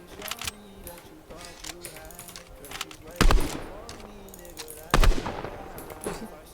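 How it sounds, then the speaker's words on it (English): Two sharp, loud bursts of AUG gunfire in Fortnite, about two seconds apart, ring out over a busy game background, with a quick weapon swap to a sniper rifle between them. "shoot your AUG and immediately pull out your sniper"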